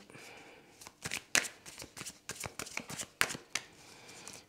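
Playing cards being shuffled by hand in a card-reading session, a run of crisp riffling bursts and snaps close up, loud and irregular, with no talk over them.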